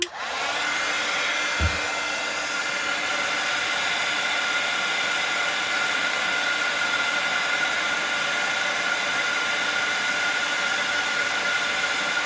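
A heat tool blows hot air onto a small craft card, a steady, loud airflow hiss that runs unbroken and close for the whole stretch after a brief click at the start.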